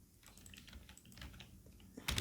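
Fast, irregular keystrokes on a computer keyboard while typing code, a steady patter of close clicks building to a louder burst at the end.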